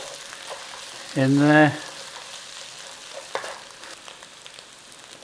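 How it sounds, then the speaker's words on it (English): Olive oil sizzles steadily in a hot pan as dried thyme is stirred in for a French onion chicken bake, with a brief spoken phrase over the frying. "Whilst it's still hot, we might as well use that olive oil. And we're going to stir in some dried thyme."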